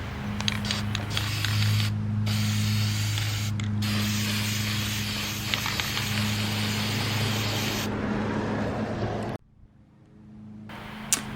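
Rust reformer being sprayed onto a rusty Ford 4R70W transmission pan, a steady continuous hiss with brief pauses between passes, close and fairly loud, ending with quiet background.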